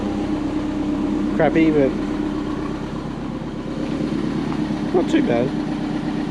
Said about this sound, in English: we'll let it idle for a little while